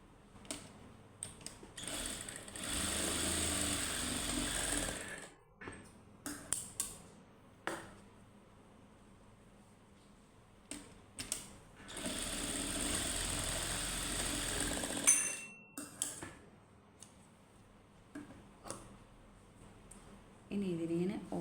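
Sewing machine stitching fabric in two long runs, a steady close mechanical whir lasting several seconds each, with a voice talking and handling clatter in the pauses between.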